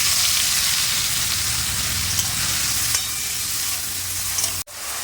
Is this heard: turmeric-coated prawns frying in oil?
yes